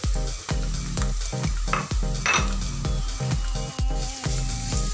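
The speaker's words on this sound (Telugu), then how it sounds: "ఈ టైంలో మనము క్యారెట్ కూడా వేసి ఫ్రై చేసేసుకోవాలి." Carrots frying with softened onions in a pan for carrot rice, a steady sizzle with stirring, heard close and alone under a rhythmic background track.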